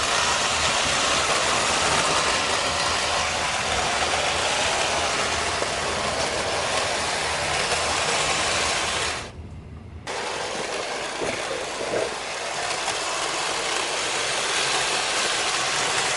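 A vintage 1968 Arnold Rapido Union Pacific Baldwin 262 N scale model locomotive runs steadily with a constant close mechanical whir and rattle, briefly dipping near the middle before resuming.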